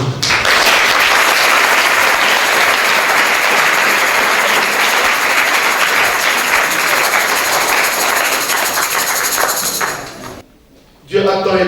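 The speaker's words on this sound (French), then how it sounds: "Acclamez-vous." A church congregation applauds and cheers at a night of praise and worship, a dense, loud, sustained wash of clapping and voices lasting about ten seconds before dropping off abruptly.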